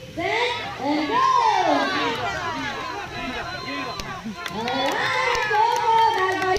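Zoo show audience at Emirates Park Zoo in Abu Dhabi cheering and shouting during a bird race, a loud, continuous crowd of children and adults with excited voices throughout, rising again near the end.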